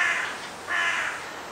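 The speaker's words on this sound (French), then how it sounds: "accueilli par les cris stridents du corbeau" A crow gives two shrill, harsh caws, each about half a second long and close, separated by a short pause, as a sound effect in a children's audiobook.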